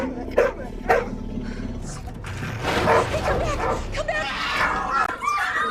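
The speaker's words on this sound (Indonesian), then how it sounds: "tiba-tiba si anjing menggonggong karena seekor hewan buas mencoba mendekati mereka." In a film set in a frozen wilderness, a dog barks as a wild animal approaches, with a couple of sharp barks early on and then yelps and whimpers mixed under dense film sound and voices.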